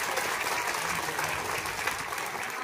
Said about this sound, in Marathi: मुलं हात वर करा. जोरात टाळ्या वाजवा.